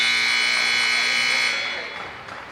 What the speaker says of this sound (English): My favorite is when the buzzer goes off.